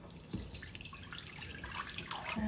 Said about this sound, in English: we need to go ahead and strain all of these flowers.